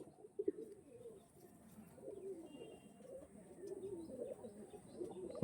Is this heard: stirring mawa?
no